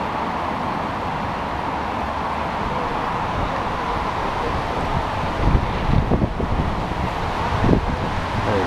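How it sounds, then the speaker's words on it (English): Wind gusts rush past a wind generator fitted with a 7-blade Missouri Raptor blade set, a steady broadband roar with slightly stronger buffeting swells toward the end. "See if we catch one more gust here."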